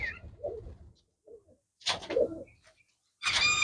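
Pigeons kept for sale coo in short, soft bursts close by, with pauses between them and no other sound.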